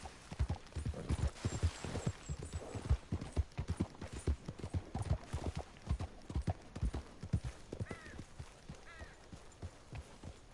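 Horse hooves in Red Dead Redemption 2 beating a brisk, rhythmic clip-clop at a trot, loud and close, with a faint snort near the end.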